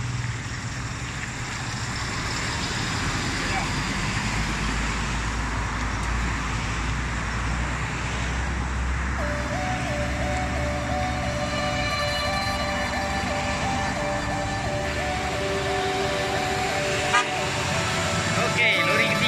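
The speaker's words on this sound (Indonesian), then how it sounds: "Okey, lori ketiga dah jalan." Heavy trucks of a long-load convoy with pole trailers and an extendable low loader pulling away on a road toward Kuala Lumpur, a deep rumbling engine drone with horn-like tones, under talk from people nearby.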